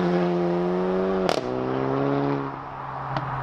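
Stage 3 APR-tuned VW Golf GTI with DSG gearbox: an engine drone under acceleration is cut by one sharp exhaust crack at a gear change, then the note drops and carries on, close and loud.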